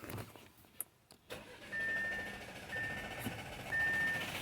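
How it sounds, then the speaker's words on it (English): A 2021 Audi Q5 engine cranks without catching after the start button is pressed, a steady mid-pitched churning with a thin whine over it, heard close after a few brief clicks. "When I press a start-stop button, and the car just cranks, engine cranks, but it does not start."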